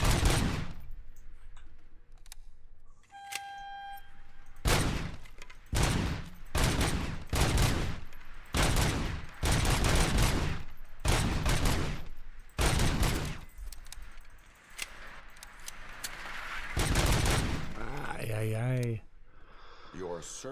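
Gunfire from the shooter game RoboCop: Rogue City comes as a string of loud, sharp bursts with short gaps between them, and game voices break in now and then between volleys.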